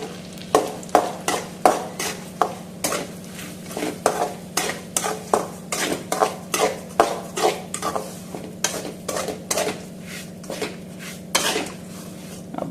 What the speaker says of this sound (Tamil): இப்போ வந்து நம்ம ரவையை சேர்த்துக்கலாம்.